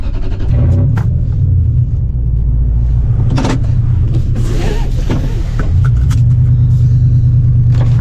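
A pickup truck used for camping drives along a foggy forest road in an Oregon national forest, its engine rumbling steadily and loudly from inside the cab with no talking.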